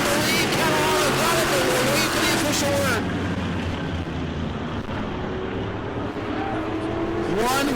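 Race cars roaring wheel to wheel at New Smyrna Speedway in a Modified race, loud engine noise sustained throughout with a brief dip mid-clip as the pack passes, then surging again.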